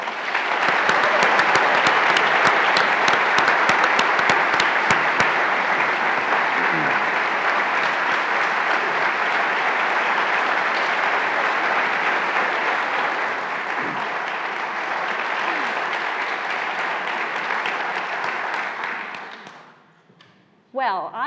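An audience bursts into loud, sustained applause welcoming Dale Earnhardt Jr. at an evening book talk, with dense clapping that holds for about twenty seconds before fading out abruptly.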